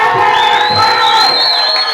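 Loud crowd cheering with sustained high ululating trills rising over the noise, continuous for the whole stretch at a celebration.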